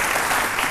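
Brief burst of steady clapping from a French television studio audience, a continuous even patter of many hands at moderate loudness with no talking.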